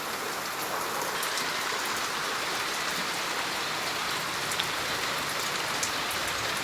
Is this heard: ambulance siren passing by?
no